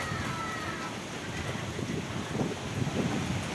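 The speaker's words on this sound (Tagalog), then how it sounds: "lalo pang lumakas ang alon papalakas ng papalakas pati ang hangin" Strong, steady wind from Typhoon Aghon roars across the whole stretch at Real, Quezon, with a churning low rumble of rough sea beneath it, loud and continuous with no pauses.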